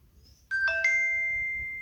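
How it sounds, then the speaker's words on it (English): A Samsung Galaxy Watch plays its notification sound at a raised volume: two bright chime tones strike in quick succession, then ring out and slowly fade, loud and clear against near silence. "slide the volume adjustment bar below notification to the right to get a louder notification sound"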